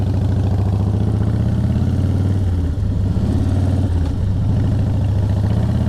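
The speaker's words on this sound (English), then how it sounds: "man, his motorcycle sounds good." An Indian motorcycle engine idles loudly and steadily up close, with a deep rumbling throb that barely changes throughout.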